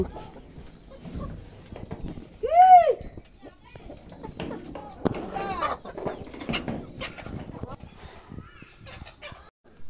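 A desi chicken just caught from the coop gives a loud squawk, then agitated clucks amid handling noises, heard close, while people talk throughout.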